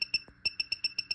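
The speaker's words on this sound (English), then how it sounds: "the closer it gets, the more it beeps" An ultrasound motion sensor on a home security system beeps in a steady run of about eight short, bright electronic pips, evenly spaced and close, with a brief gap partway through.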